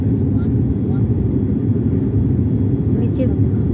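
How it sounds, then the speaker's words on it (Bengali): Steady, loud low-frequency drone of an airplane cabin in flight, flying low over the ground near Cox's Bazar, continuous throughout with a brief faint higher whine near the end. "আমরা মাটির খুব কাছাকাছি দিয়ে এখন বিমানটি উড়ে যাচ্ছে"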